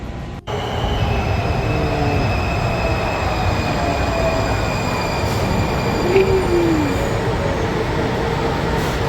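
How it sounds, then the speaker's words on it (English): A train runs steadily with a constant rumble of wheels on track and occasional faint squeals, no talking. "These trains are pretty cool."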